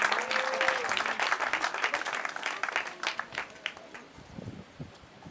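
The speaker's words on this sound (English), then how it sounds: "A big applause to Samantha Bribal" A wedding audience breaks into dense applause that is loud at first and then thins and fades over a few seconds, with some voices mixed in.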